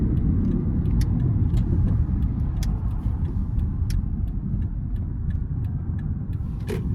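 A 2009 Toyota Prius 1.5 four-cylinder hybrid with a CVT accelerating hard, heard from inside as a steady droning engine and road rumble with faint ticks, no talking.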